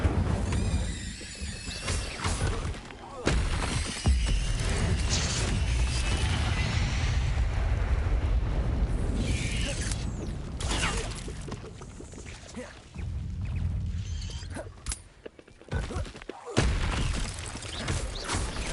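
Incendio fire spells being cast repeatedly during combat in Hogwarts Legacy: a dense, continuous wash of booming blasts, whooshes and squealing effects, loud and busy throughout, with sharper hits and short dips near the end.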